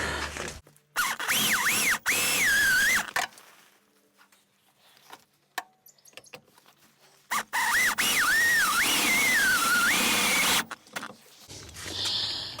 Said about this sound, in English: I'm drilling to the same size and all very similar to what's on the GXL